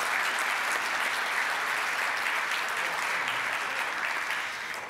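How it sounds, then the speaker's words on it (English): Steady, dense applause from a Rotary meeting audience, many hands clapping evenly at moderate volume and tapering slightly at the close, with no talking. "Let's give Mike another round of applause."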